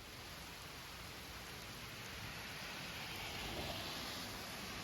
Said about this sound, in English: The rain continued to pour outside.